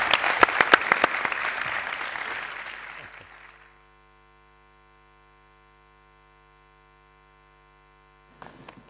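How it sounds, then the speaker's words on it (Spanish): Audience applause in Seville after a talk on bullfighting, loud dense clapping with a few sharp close claps that fades out over about three seconds, then near silence with faint hum before a brief noise at the end. "El aplauso de Sevilla"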